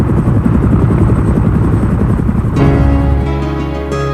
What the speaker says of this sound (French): Le turbotransporteur Piasecki H-16 est un autre gros hélicoptère du début des années 50.